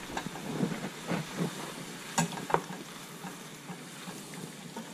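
Shark empanada filling with chunky salsa sizzles softly in a pan while a utensil stirs it, making irregular scraping and clacking bursts over a quiet hiss. Nobody talks.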